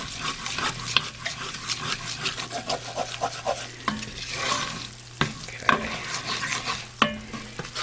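Roux being stirred in a pan while cooking for a beef and chicken pot pie, with a steady close sizzle and repeated scraping strokes and occasional clinks of the utensil against the pan.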